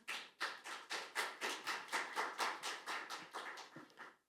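Audience applause for a finance professor introduced at a Korean expert panel debate on platform valuation, a steady burst of many hands clapping that swells, holds for several seconds and then tapers off, with no talking over it.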